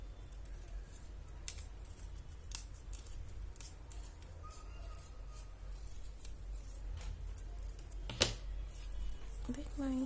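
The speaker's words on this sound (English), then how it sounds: "I will just go and trim it down a little bit." Scissors trimming card for a handmade Christmas card, several sharp quiet snips and crisp clicks spread out against a soft indoor hum, with a little faint rustling near the end.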